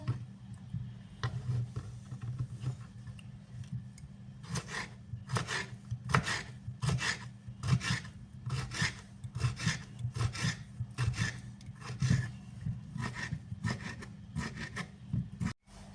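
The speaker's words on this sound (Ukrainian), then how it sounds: "Так наші огірочки дорізаємо до кінця." A knife slices cucumbers for a salad on a board, giving a steady run of crisp, evenly spaced chopping strokes, close and clear with no talk.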